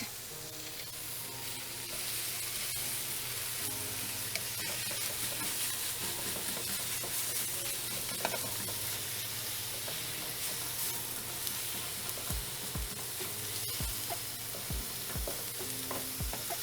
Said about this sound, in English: Our onions are cooking. We have our meat cooking.